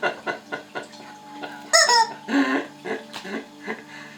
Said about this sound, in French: C'est ma poule.